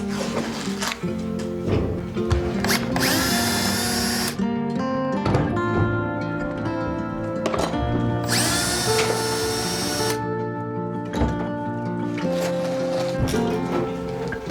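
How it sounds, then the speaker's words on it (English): A power drill whines in long, loud bursts with short pauses between, its pitch shifting as it bites into metal while drilling out a fastener head on a Siren 17 sailboat, heard up close. "You're gonna drill the middle out until the head pops off"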